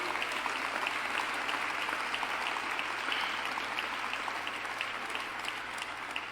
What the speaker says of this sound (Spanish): Dale un aplauso al Señor si lo va a aplaudir.